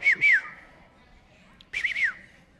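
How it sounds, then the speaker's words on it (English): Pet bird with a congested nose giving two bursts of clear, bright chirps, a quick double call and then a longer warbling phrase after a short gap, close and fairly loud. "So right now he just kind of makes those chirping type noises."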